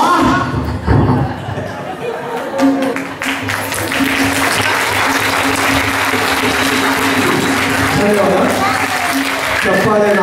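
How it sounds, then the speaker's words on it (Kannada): Audience at a live comedy stage show breaking into loud, sustained applause that swells and holds steady, with some crowd chatter and voices mixed in at the start. "ಚಪ್ಪಾಳೆ"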